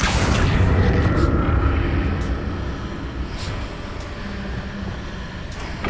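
A heavy, rumbling blast from the Depulso spell in the video game Hogwarts Legacy, loud at first and fading into a sustained low roar with a few faint later bursts.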